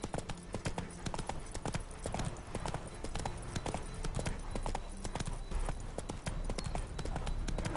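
Roach, a horse in a video game, trots along with steady, rhythmic hoof clip-clops, close and clear throughout, with faint ambient background beneath the hoofbeats.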